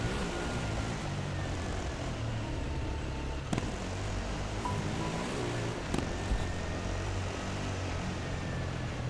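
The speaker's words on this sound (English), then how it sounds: "No, even the helicopter's going up here." Helicopter in the Dakar Desert Rally video game, a steady dense rotor and engine drone blended with vehicle rumble, loud and continuous with a couple of brief knocks.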